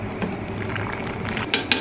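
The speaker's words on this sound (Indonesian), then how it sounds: "Aku mau aduk sebentar kayak gini biar nggak nempel di dasar panci." A utensil stirs penne rigate pasta in a pot of boiling water, making soft scraping and clinking against the pot, with a couple of sharper taps near the end.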